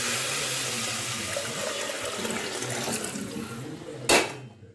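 Water steadily pouring into a cooking pot for rice, a continuous faint splashing stream that ends with a short louder clank as the pouring stops; no talking.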